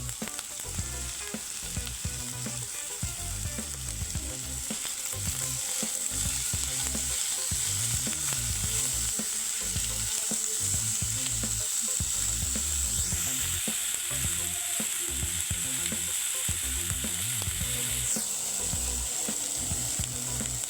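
Mixed vegetables fry and sizzle steadily in a hot pan for veg noodles, with rhythmic scraping and stirring strokes throughout, close and continuous.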